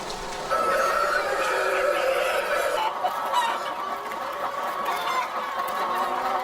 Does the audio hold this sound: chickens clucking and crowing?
yes